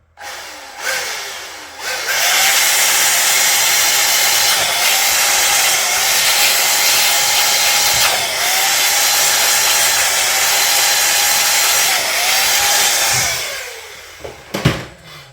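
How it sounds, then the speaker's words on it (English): A small air gun blows on a Nintendo Switch OLED circuit board to dry it, giving a loud steady hissing whoosh that lasts about eleven seconds with brief dips, then cuts off into a few faint handling clicks. "I just use a wee air gun here just to blow on everything"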